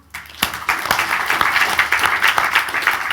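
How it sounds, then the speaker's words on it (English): An audience at a social media strategy Q&A session applauds Jason, with brisk, fairly loud clapping that builds quickly and continues steadily for a few seconds. "Give Jason a round of applause."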